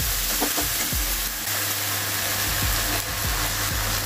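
Tomatoes sizzle with ginger-garlic paste in a pan for an egg masala curry, a loud, close, continuous hiss with repeated stirring scrapes running throughout, no talk.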